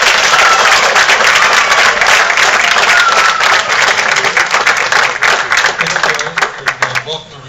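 Audience applause and cheering welcome a guest at a Barnes & Noble event. The clapping is loud and dense at first, then thins into scattered claps as a voice begins.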